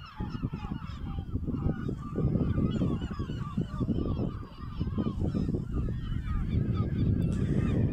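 Birds call at an island bird sanctuary, a dense, continuous chorus of honking, goose-like calls overlapping throughout, loud and close with no pauses.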